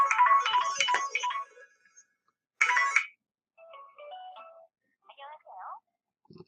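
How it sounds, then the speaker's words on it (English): Mobile phone ringing during a talk, its ringtone melody sounding in a few short bursts after a stretch of speech, moderately loud and fairly close. "that was my phone ringing there"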